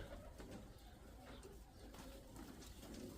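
Pigeons coo softly inside a pigeon loft, their low rolling calls repeating steadily over a quiet background for a few seconds with no talking.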